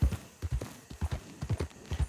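A horse's hooves clip-clop at a steady walking rhythm, a run of close, distinct thuds with nothing else heard.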